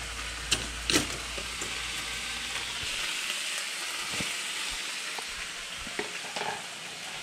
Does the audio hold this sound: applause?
no